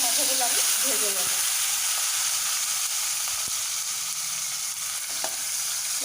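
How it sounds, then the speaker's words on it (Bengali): Fish heads frying in a pan for a Bengali muri ghonto, a steady close sizzle running through the whole stretch, with brief voice sounds breaking in near the start and end. "মাছের মাথাগুলো ততক্ষণ ভেজে নেব"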